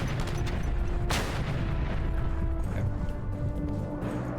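A grenade explosion in an action video game gives one sharp, loud blast early on, then trails off into a continuous dense roar of gameplay noise.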